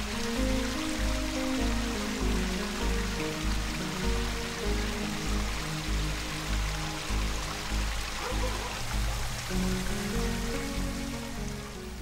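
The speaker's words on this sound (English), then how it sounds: "The long stream itself on Susan's pond provides quite a bit of filtration" Flowing stream of a garden pond, with water splashing and trickling continuously at close range, a dense steady rush over a low hum, with no voices.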